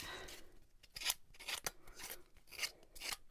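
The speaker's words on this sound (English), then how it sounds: "So I am just going to cut this out, rough up the edges just a little bit with" Paper distresser rasping along the edges of a playing card in a mixed-media craft, a series of close, dry scraping strokes in uneven bursts with no talking.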